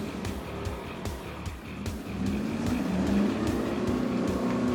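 A Ford Ranger 4x4 grinds up a sandy beach rise in third gear, its engine note a steady low rumble that builds and grows louder partway through, with no talk over it.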